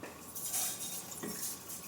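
A metal cooking pot is set down and shifted with a few soft clanks and scrapes. The sound is quiet and close, with no speech.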